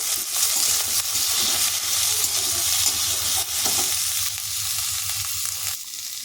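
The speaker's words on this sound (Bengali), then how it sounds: "এর মধ্যে আলুগুলো দিয়ে দেব দিয়ে আবারও ভালো করে নাড়াচাড়া করে নেব" Potatoes sizzle in a hot pan with vegetables for a spring onion greens curry while a utensil scrapes and stirs them, giving a steady frying hiss with irregular clinks and scrapes.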